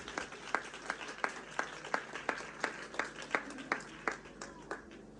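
A church congregation at a live Hindi-language sermon gives rhythmic, sustained applause, with about fifteen steady, evenly spaced claps per five seconds layered over a dense crowd wash, moderately loud and even throughout.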